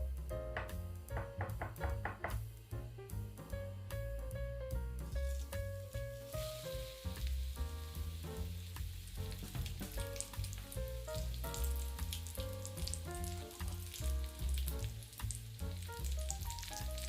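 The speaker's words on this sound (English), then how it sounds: "Fry each steak for 2 to 3 minutes on each side and then turn them over." Plant-based steaks fry in a hot pan, a loud steady sizzle and crackle that holds throughout, close up with no voices.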